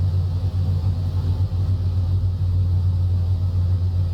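Engines of a Boeing 314 Clipper flying boat in Microsoft Flight Simulator hum as the throttles come up, a steady low droning rumble, constant and unbroken with no voices.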